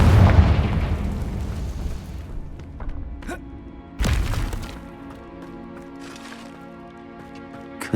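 Confringo spell explosions in Hogwarts Legacy: a loud opening boom that decays, then a sharp second blast around the middle, each followed by ringing, shattering debris tails in a quiet game scene.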